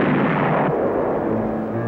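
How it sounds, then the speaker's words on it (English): A cartoon bomb blast in a loud, dense roar that fills the whole short span and fades only slightly toward the end, with no voices over it. "My wings of steel shielded us from the explosion."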